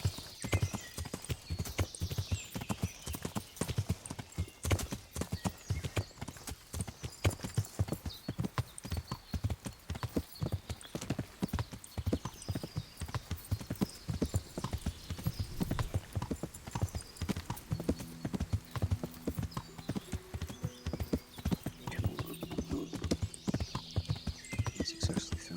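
A white horse's hooves clip-clop in a steady, close rhythm throughout a ride in the medieval game Kingdom Come: Deliverance, with a brief whinny and soft game ambience underneath.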